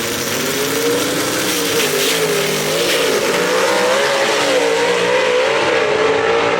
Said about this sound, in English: Man, that car breaks loose in the top end.